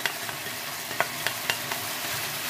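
Onion, garlic and carrots sautéing in a pan for sotanghon, a soft steady sizzle broken by a few crisp clicks of a spatula against the pan.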